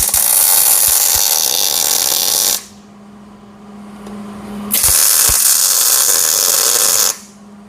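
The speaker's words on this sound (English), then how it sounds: "just trying to line this up here with the top side of our frame rail and get us a tack weld" Tack welding on a frame rail of a pro-touring Trans Am, two long loud bursts of harsh crackling hiss, each cutting off sharply, with a low hum and faint clicks in the pause between.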